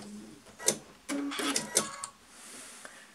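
A sewing machine runs in short bursts while stitching the corner of a fabric carrycot, quick mechanical whirring and clatter close by, separated by brief pauses, fairly quiet.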